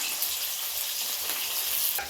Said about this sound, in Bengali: পেঁয়াজ কুচিটা একটু ভালো করে ভেজে নেবে